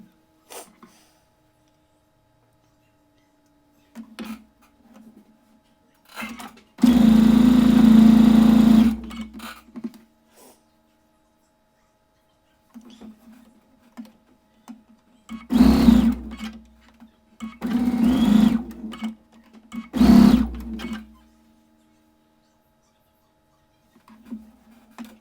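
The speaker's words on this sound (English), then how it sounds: "let's go ahead and finish sewing together our quadrants" A sewing machine stitches quilt quadrants together in close, steady whirring runs: one long burst of about two seconds, then three shorter bursts after a quiet pause, with no talking.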